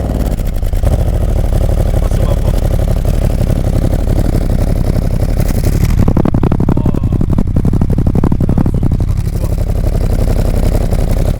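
A Harley-Davidson Pan America 1250 adventure motorcycle fitted with a Dr. Jekyll valved exhaust runs close by with a loud, steady idle, then a deeper rumbling burst midway before settling back to idle.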